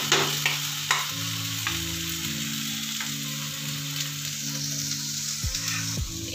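Flattened rice fries in oil mixed with ghee for a chire pulao, giving a continuous bright sizzle broken by scattered spoon taps and scrapes as it is stirred, with faint steady tones in the background.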